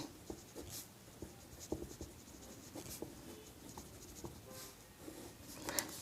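A pen scratches across paper as the lens formula is written out by hand for a physics problem. The strokes are quiet, close and irregular, with soft taps between them and no speech.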